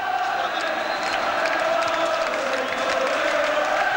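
Football supporters at a Rangers v Celtic match sing rival songs back and forth, a dense, steady roar of massed voices chanting together with no pauses across the whole stretch.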